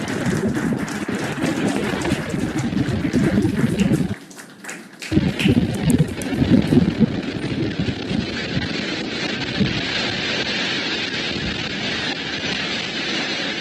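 Falcon 9 rocket carrying a Dragon capsule with the Axiom 4 crew, roaring after liftoff toward the International Space Station: a broad, crackling rumble that drops out briefly, then returns and holds as a steady distant roar.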